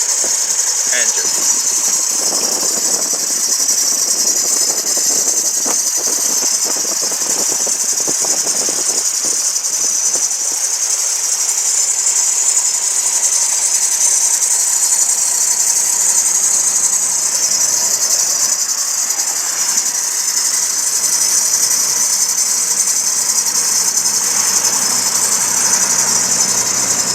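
A 2002 GMC Envoy SLT's 4.2-liter straight-six engine runs steadily at idle throughout, a continuous close mechanical drone with a high whine, faint rattles and occasional clicks layered on top.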